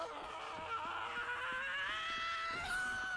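A drawn-out wailing scream from a Chivalry 2 combatant rises and wavers over about three seconds, layered over muffled battle noise with faint rhythmic thuds underneath.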